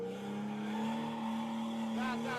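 A drift car on a cone course in a drift lesson accelerates with a sustained, steady engine drone, and a wavering tire squeal rises near the end.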